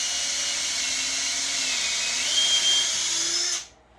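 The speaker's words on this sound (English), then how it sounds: "I drill these holes" A power drill whines steadily at high speed, its pitch shifting slightly as it bites into metal while drilling holes for a stair railing post, then stops abruptly.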